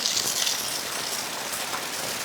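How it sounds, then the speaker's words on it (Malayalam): Heavy monsoon rain pours down steadily, a dense continuous hiss of water striking surfaces nearby with no pauses or voices. "ഇതേട്ടാ നോക്കിയാൽ മഴ വെള്ളം വരുന്ന നോക്കിയേ, കുത്തി മോളിന്ന് അടിച്ച് പൊളിച്ചിട്ട് വരുന്നത്"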